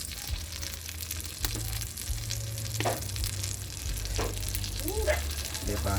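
Fish frying in hot oil makes a steady, dense sizzle with crackling pops up close throughout, with occasional faint clinks and no clear talk.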